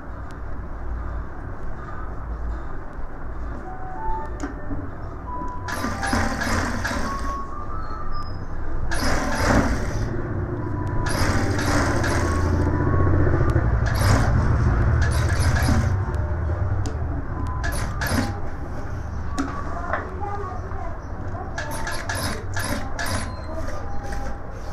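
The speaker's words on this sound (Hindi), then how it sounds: "इस तरीके से करके यहाँ से सिलाई करना शुरू करेंगे।" A sewing machine stitching a gents suit runs in bursts, with several louder mechanical runs from around six to sixteen seconds over steady room noise and faint talk.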